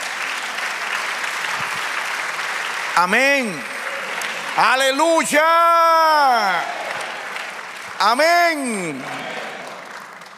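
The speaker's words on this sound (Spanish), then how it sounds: "dale un aplauso al Señor" A church congregation claps continuously throughout, a steady bed of applause under a preacher's loud, sung-out exclamations that swell over it in several bursts.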